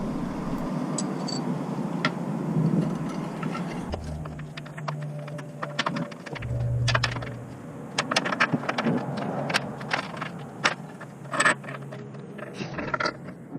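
Metal fasteners and spacer blocks clink and scrape while being fished into place under a 2017 Ford Transit Connect during a trailer hitch install, a steady run of close rattles and scrapes with no talking.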